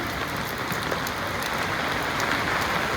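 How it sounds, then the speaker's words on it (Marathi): Dense, continuous hiss of heavy rain pattering on surfaces and a flooded road in Talegaon, steady and unbroken for the whole moment. "ये स्वरा पावसात भिजायचं तुला?"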